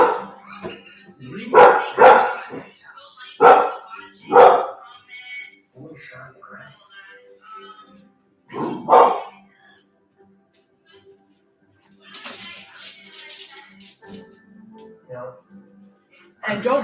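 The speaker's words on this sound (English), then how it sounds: "So don't mind my dog if you hear her barking in the background." A pet dog barks in the background of a home kitchen, with several sharp barks in quick clusters and a later stretch of lighter noises.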